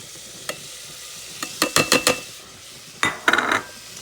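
A spoon stirs red beans in a pot, making close scraping and clattering strokes in short bursts, a lone knock, then a quick run of four strokes, a pause and another cluster.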